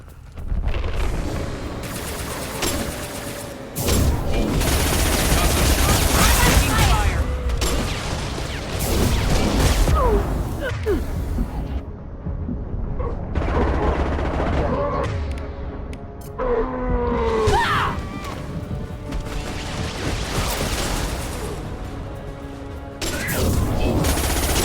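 Heavy video game gunfire, including a high-impact shot, booms and mechanical clatter in loud irregular bursts with brief quiet gaps, a sci-fi combat scene with no talk.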